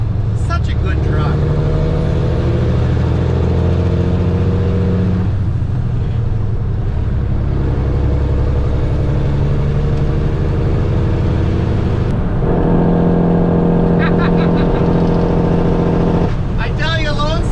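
Loud, rapid Jake brake rattle from a big truck, rising and falling in two long bursts over a constant rumble of traffic, with a voice talking.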